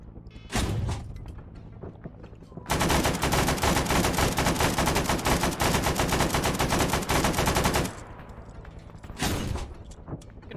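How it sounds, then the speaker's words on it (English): Sustained machine gun fire in Arma 3 during a Vietnam-era mission, aimed at a Huey helicopter: about five seconds of rapid, loud, close bursts, with isolated heavy shots before and after amid background battle noise. "Gonna shoot the heck out of that Huey."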